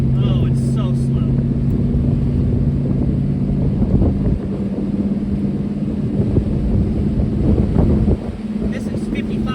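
A 1980s Ford F250 diesel pickup cruising in fourth gear at 2,000 RPM, about 55 mph: a steady, loud engine drone with a low hum and constant wind rush throughout.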